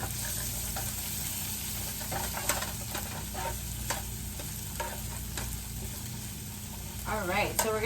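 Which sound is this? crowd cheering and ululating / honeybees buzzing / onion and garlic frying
onion and garlic frying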